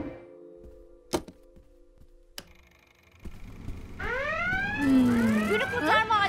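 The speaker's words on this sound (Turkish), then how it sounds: "Günü kurtarma alarmı." Two sharp clicks, then a steady electronic alarm tone with bursts of rising, warbling beeps building louder toward the end.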